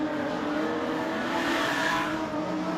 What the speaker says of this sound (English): Graham West is in 5th place as they move out of 3 and 4 yet again.